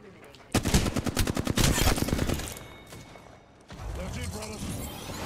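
Rapid automatic gunfire from a video game battle royale, Apex Legends, rattles in a dense burst of closely spaced shots, fading off, then lighter shots and mechanical clatter follow.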